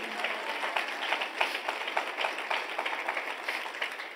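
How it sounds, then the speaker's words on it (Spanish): A church congregation applauding at a fairly distant, moderate level, the clapping steady and diffuse for several seconds without any voices. "Démele un fuerte aplauso al Señor"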